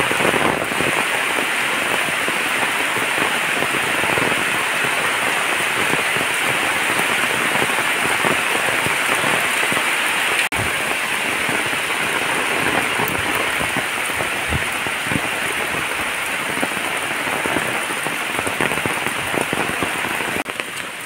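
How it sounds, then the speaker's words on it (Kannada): Heavy rain pours steadily over a garden of areca palms during a windy storm, a dense, loud, unbroken hiss of drops on leaves and ground lasting throughout with no voices. "ಮಳೆಯಲ್ಲಂತೂ ವಿಡಿಯೋನೂ ಮಾಡೋಕ್ಕಾಗೋದಿಲ್ಲ"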